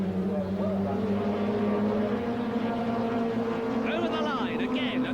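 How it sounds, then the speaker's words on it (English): Touring cars racing at Brands Hatch in the 1988 British Touring Car Championship on a slippery surface, with a loud steady engine drone and rising tyre squeals near the end, under a commentator's voice. "Hear the tyre squeal."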